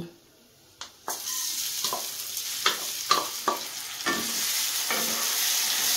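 Marinated rice frying in a pan for basanti polao, a quiet start giving way to a steady close sizzle punctuated by repeated spatula scrapes and knocks, no speech.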